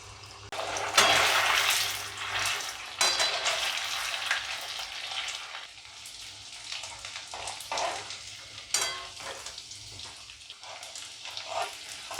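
Cone samosas, pastry cones coated in sev bhujiya, fry in hot oil with a steady, loud broadband sizzle and crackle. The bubbling swells and eases in waves as the pieces are lowered in and turned, and no one speaks.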